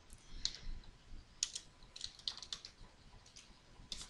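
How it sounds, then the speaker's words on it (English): Typing a name on a computer keyboard at a desk while working in Photoshop, heard as scattered light key clicks in short irregular bursts, fairly faint and close, with no talking. "Okay, so then I'm just going to type my name."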